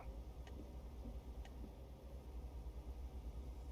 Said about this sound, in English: interior noise doesn't seem very quiet inside the truck